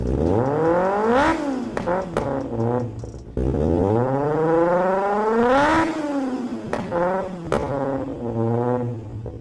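A 2025 Kawasaki ZX-6R four-cylinder motorcycle engine revs up and down repeatedly, rising to a high whine and falling back, with sharp crackling exhaust pops between throttle blips, loud and close.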